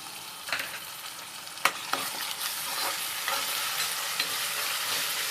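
Ginger paste frying in a pan, a steady hiss of sizzling oil with a few sharper scrapes and clinks as it is stirred, no talk.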